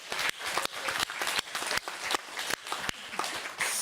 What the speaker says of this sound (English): let's have a clap for that.